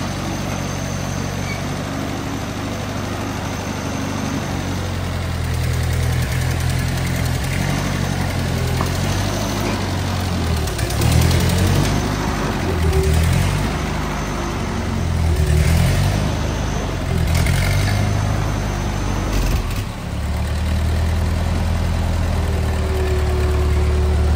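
An old Ford tractor engine idling steadily with a low, throbbing rumble, its pitch rising and falling a few times as it is revved, close by and continuous with no talk.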